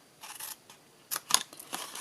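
Scissors cut through scored paper in a quick series of short, crisp snips, close and clear, with brief pauses between cuts.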